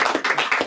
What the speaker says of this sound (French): Ouais, on l'applaudit encore.